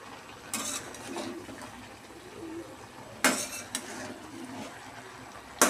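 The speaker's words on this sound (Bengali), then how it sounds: "ভালো করে একটুখানি নাড়িয়ে নেব" Pumpkin greens chochori being stirred in a pan, with a few sharp metallic scrapes and clinks of a spatula against the pan over a soft background of simmering, close and otherwise quiet, with no voices.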